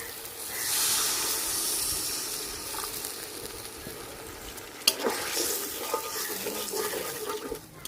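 Water poured into frying tomato masala for an egg bati bhapa dish, producing a broad hissing sizzle that swells, then a sharp splash and renewed bubbling sizzle, close up with no talk.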